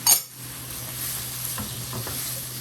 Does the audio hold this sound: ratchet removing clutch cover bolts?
no